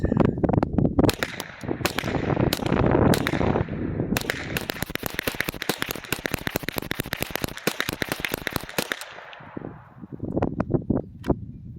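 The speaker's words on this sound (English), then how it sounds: "That actually cycled the entire mag." A semi-automatic .22 firearm cycles through a magazine of Aguila ammunition, giving sharp, close gunshots, first a few spaced cracks, then a rapid run of shots, with a few more bursts at the end.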